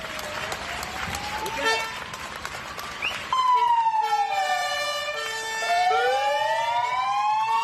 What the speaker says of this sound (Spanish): los sanitarios y los bomberos con las sirenas en marcha